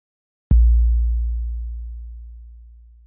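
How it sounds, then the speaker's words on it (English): A single deep, booming 808 bass drum hit with a sharp click, then a long low sine-like tail fading out slowly, isolated in silence. "we're going to use this 808 bass drum as our source"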